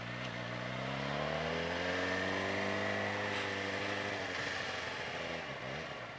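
A Suzuki GSX-R motorcycle engine rides along a cobblestone road, its close, steady drone rising in pitch as it accelerates and then easing off, with no talking.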